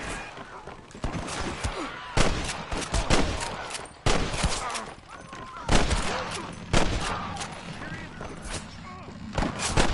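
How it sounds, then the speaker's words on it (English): Repeated gunfire in a Red Dead Redemption shootout, loud bursts and volleys of shots in irregular clusters with booming thuds, with game voices speaking between the blasts. "I can hear more gunshots."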